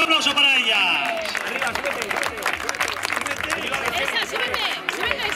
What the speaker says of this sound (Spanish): Fuerte aplauso para ellas.